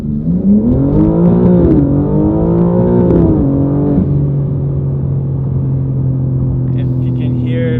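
BMW M4 G82 xDrive launching hard, engine revving upward in rising sweeps with quick drops at each gear shift, then settling into a steady loud drone; close and prominent.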